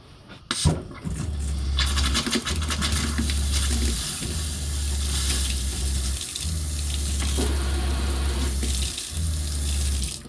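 Water runs steadily from a newly installed indoor faucet in a travel trailer sink, a continuous splashing stream with brief interruptions as the flow is shut off and turned back on, close and alone.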